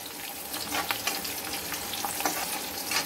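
Triangle-cut capsicum for kadai paneer fries in a pan with a steady close sizzle, broken by repeated scraping stirs of a spatula.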